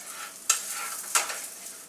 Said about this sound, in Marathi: थोडंसं असं मी बटर वितळ करून घेतलेलं आहे, थोडंसं टाकून घेते